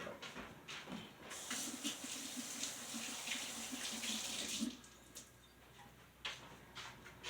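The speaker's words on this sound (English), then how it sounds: "Alright, got some nice hot soapy water going." Hot water runs steadily from a kitchen tap into a sink during handwashing, with the splashing stream changing as the hands move beneath it and then easing off toward the end, close and fairly quiet.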